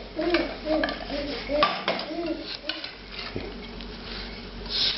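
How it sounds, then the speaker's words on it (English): A spoon gently stirs cauliflower florets in a thick Mornay sauce, making close clinks and soft scrapes against the pot, with a voice talking over the stirring. "Stir it gently so that you don't break up the cauliflower."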